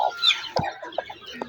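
A native hen squawks sharply when touched, giving a few short, loud, harsh cries close by in a quick broken series with brief gaps between them.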